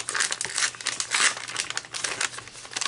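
A parcel being unwrapped, with its paper crinkling and tearing in close, continuous bursts of rustling that swell and fade for a few seconds, with no talking.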